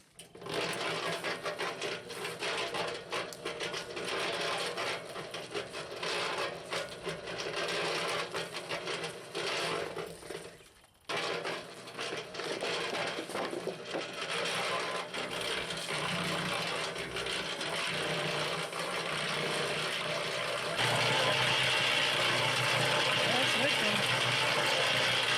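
A concrete mixer churns an 80-pound batch of concrete with water in a continuous loud mechanical rattle and whir, briefly cutting out midway before resuming, with a person's speech faintly mixed in.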